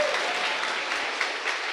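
Audience applause at a leader's talk, steady and fairly soft, a continuous wash of many hands clapping for a couple of seconds.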